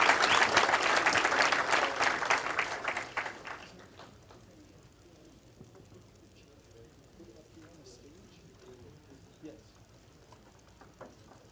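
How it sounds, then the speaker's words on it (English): Audience at an annual lake association meeting applauds, a dense burst of clapping for about four seconds that fades out, followed by quiet room murmur and a few scattered sounds. "let's give another round of applause for Sergeant Grabowski."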